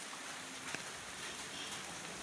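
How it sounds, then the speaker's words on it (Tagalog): Steady, soft hiss of rain falling, even and continuous with no voices, with a faint tap or drip standing out briefly. "15 hours na ang ulan."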